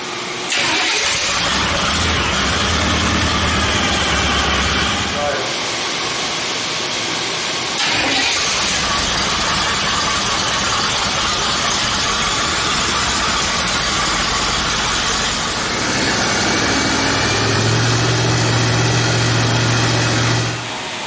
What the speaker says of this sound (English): Go ahead, give it a shot.